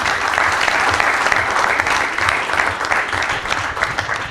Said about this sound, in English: may we please give him a big round of applause?